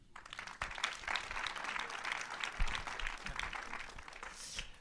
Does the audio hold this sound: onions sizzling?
no